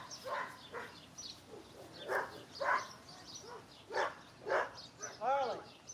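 Small puppy in a barn giving short yips and whimpers in scattered bursts, close by, while a person calls to another dog over it.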